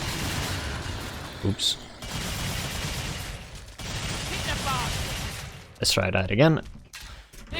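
Rapid bursts of HRG weapon gunfire from the Killing Floor 2 shooter game crackle in dense volleys, joined by mechanical clicks and a sharp burst near the end, while a player talks briefly.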